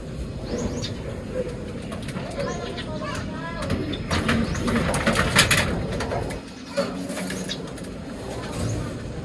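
Five-month-old racing pigeons coo in low, throaty bursts, fairly faint and partly buried under someone talking, with occasional background clatter.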